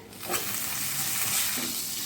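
Gunda berries sizzle steadily in hot oil in a pan, with a few scraping stirs of a spoon, close by.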